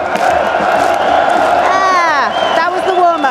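Sports Police crowd of fans at the PGL Major Antwerp Counter-Strike event cheering loudly, a sustained roar with whoops and rising shouted voices over a packed arena.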